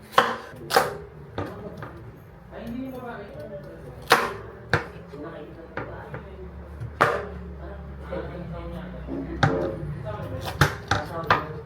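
A knife repeatedly strikes a cutting board while beef is chopped into small pieces for kaldereta. The sharp, close chops come in irregular bursts, and a voice talks underneath in places.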